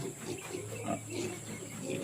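Pigs and piglets grunt in a soft, repeated rhythm of low snuffling sounds, faint and somewhat distant, with steady background hiss and no clear talking.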